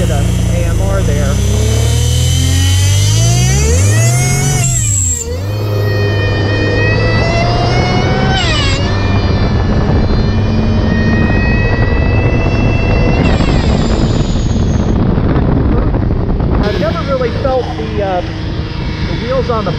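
A supercharged 1.2-liter engine in an AMR500 Mirage dune buggy revs loudly, rising and falling in pitch through repeated throttle blips with a steady supercharger whine, close up and dominating the scene.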